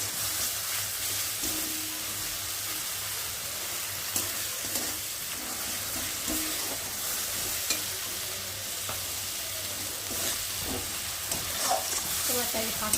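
Spice masala frying in oil for a rohu fish curry, a continuous close sizzle and crackle with steady scraping of a spoon stirring through it, lasting the whole stretch with faint talk in the background.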